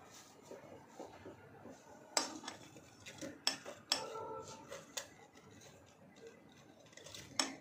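A spoon scrapes and scoops soil to cover a small plant inside a mesocosm, giving quiet, close gritty scrapes broken by several sharp clicks and taps, with no voices.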